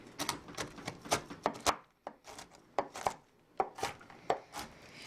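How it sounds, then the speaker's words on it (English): A knife chopping pecans to a medium texture on a cutting board: quick, close, crisp taps in irregular bursts with short pauses between runs of strokes. "So I'm going to chop them, not too fine."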